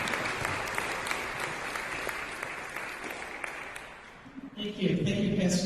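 A church congregation applauds to welcome a speaker at a Pentecost Sunday service, a dense, steady clapping that fades after about four seconds, and then a voice begins speaking.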